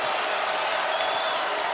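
Basketball arena crowd roaring after a dunk in a Missouri at Alabama game, a steady dense wash of cheering and applause that holds loud and even throughout.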